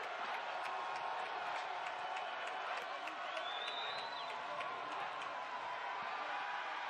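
Stadium crowd at a Bowling Green home-opener college football game against Maryland, a steady dense roar of cheering and noise filling the whole stretch, with no clear peaks or pauses.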